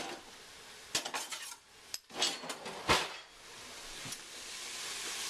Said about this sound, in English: Very carefully whisk in the hot stock.